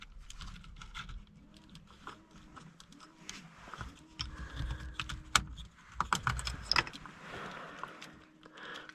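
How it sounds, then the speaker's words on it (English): A steering column switch assembly is worked loose and pulled out of a Peugeot 306 HDI, with a run of small plastic clicks, rattles and scrapes, close and irregular, a few sharper snaps near the end. "let me just pull this whole thing out, hopefully, and I'll show you how it's held in"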